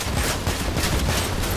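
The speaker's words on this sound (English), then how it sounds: "I see auto cannon projectiles coming my way" Autocannon fire rattles in a vehicle combat game, a steady, loud stream of rapid heavy shots with booming impacts and no voices.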